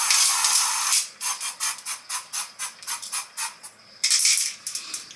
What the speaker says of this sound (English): So I'm gonna spray a little bit of this.